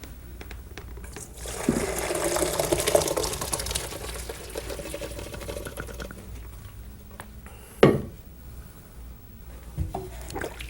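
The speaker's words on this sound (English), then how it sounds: "Let's take it over the sink and strain it." Half-cooked rice is drained over a kitchen sink, with water pouring and trickling through a strainer for a few seconds, followed by a couple of sharp knocks and a softer bump as the strainer is shaken.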